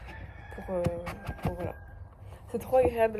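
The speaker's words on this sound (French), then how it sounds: "le matin, du coup il y a le coq qui chante" Chickens and a rooster near an apartment building in the morning, clucking and crowing faintly in the background beneath someone talking.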